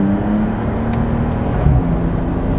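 A 2020 992-generation Porsche 911 Carrera S Cabriolet engine rumbles steadily during a smooth gear downshift, with a brief pitch blip partway through and a constant low road roar.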